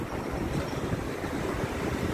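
Cold wind blows steadily across a microphone on a shore by the water, a loud continuous rumble with a faint wash of waves beneath it.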